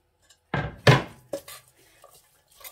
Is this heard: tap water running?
no